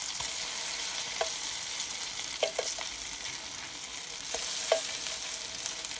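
Zucchini pancakes fry in hot oil with a steady bright sizzle, and a few sharp scrapes and taps of a spatula sound as they are turned.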